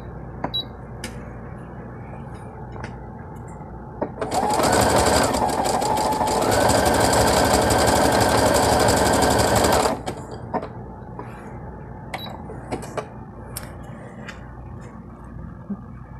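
A sewing machine runs a stretch stitch at 3.5 length with a knit presser foot, a steady loud mechanical whir for about six seconds in the middle, framed by quiet clicks and handling noises before and after.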